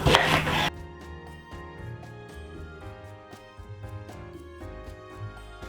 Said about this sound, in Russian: мелко нарезаем лук